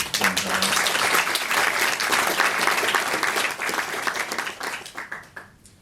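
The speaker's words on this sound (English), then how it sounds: "I think we should give Rosemary a little round of applause for the record." A room full of people applauding warmly, the dense clapping holding strong before tapering off toward the end.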